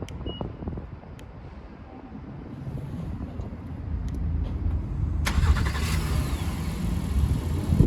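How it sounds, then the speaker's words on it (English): A 2021 Honda Passport Elite starts up outdoors in wind, the engine catching partway through and settling into a steady mid-pitched idle over a broad rumbling background. "let me turn the car on"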